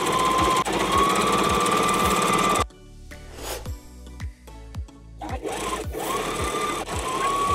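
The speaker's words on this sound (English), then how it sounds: "sewing machine and sew this edge all the way around" A sewing machine stitches along the edge of a trench jacket, its rapid close mechanical chatter running steadily, pausing briefly in the middle amid small handling clicks, then starting up again.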